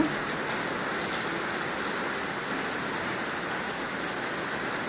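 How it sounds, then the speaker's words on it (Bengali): Rain falling on a tin roof makes a dense, even drumming hiss that holds steady and close for the whole stretch, with no voices over it. "এই যে টিনের চালের শব্দ শুনতেছেন"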